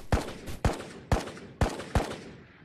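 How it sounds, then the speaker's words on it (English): Five sharp gunshots in the video game Ghost of Tabor ring out at uneven intervals, each with a quick echoing tail, moderately distant with no talking. "There's some gunfire."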